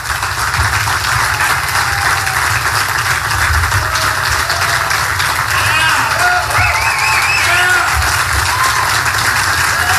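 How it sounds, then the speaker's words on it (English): Press members at a Donald Trump tax plan press conference clapping in a dense, sustained round of applause that fills the room, loud and continuous, with a few murmured voices mixed in. "some of the press was actually clapping"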